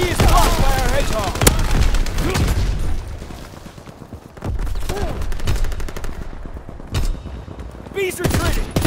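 Bursts of rifle and machine-gun fire from Call of Duty WWII, repeated sharp shots and rattling volleys over a dense battle din, with a voice talking through much of it.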